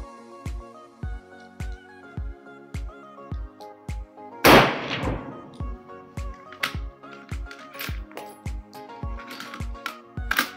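A rifle chambered in 7.62x54R fires Sellier & Bellot factory cartridges at a shooting range. One loud, sharp report rings out over a steady rhythmic thumping in the background.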